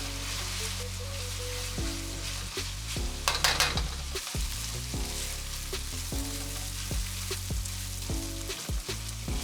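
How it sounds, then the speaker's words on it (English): Pork browns in a hot pan over high heat, giving a continuous close sizzle with repeated scraping stirs and a brief louder crackle partway through. "Now I just raise the heat because we want to brown it a little bit"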